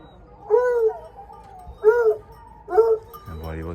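Hunting dogs on a wild boar hunt in the Corrèze countryside give three drawn-out yelping bays spaced a second or so apart at moderate distance, followed by a brief voice at the end.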